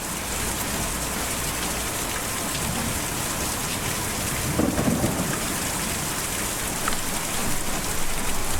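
Steady heavy rain and rolling thunder from the video game Kentucky Route Zero form a dense, continuous wash with a deeper rumble near the middle, and no voices.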